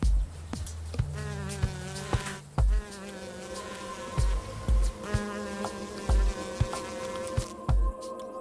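Steady insect buzzing with a sustained whine, punctuated by several low thumps at irregular intervals throughout.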